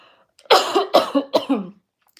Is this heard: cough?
yes